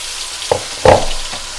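Ginger garlic paste fries in a pan with a soft steady sizzle, broken by a couple of louder spits and crackles as it is stirred.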